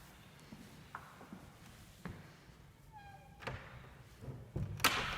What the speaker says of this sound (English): I'll close the door even.